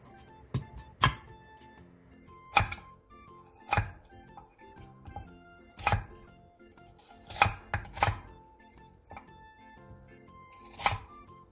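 Three potatoes being cut into long strips with a knife on a cutting board: a series of sharp, close chopping knocks in irregular pairs and singles, with nothing else heard.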